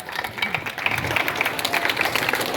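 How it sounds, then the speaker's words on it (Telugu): Dense, continuous clapping rises from a crowd of students and staff at a 78th Independence Day celebration at a junior college, steady throughout. "క్లాప్స్ కొట్టండమ్మా"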